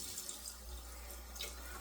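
Water runs from a tap while shaving lather is being made, a faint, steady hiss and splash at low level with a light drip or two and no talking.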